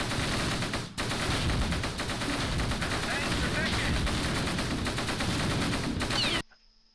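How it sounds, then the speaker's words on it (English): Dense, continuous bursts of hull-mounted machine gun fire from a tank in the Close Combat World War II video game, loud and sustained for about six seconds before cutting off abruptly. "try and get that hull-mounted machine gun firing as well"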